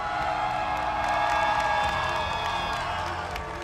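A crowd at a Pokémon UNITE esports championship cheers and whoops for a team, a steady, fairly loud roar of many voices that holds throughout.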